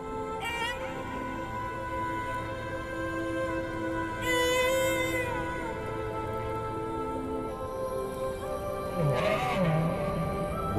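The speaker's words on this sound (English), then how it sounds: "Petit Point will memorize the song that he hears from other whales." Whale song fills the clip: sustained tonal moans and higher whistling calls that rise and fall over a low ambient wash, with no talking.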